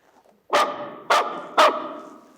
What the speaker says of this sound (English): You can't bring that dog indoors. Dogs aren't allowed in here.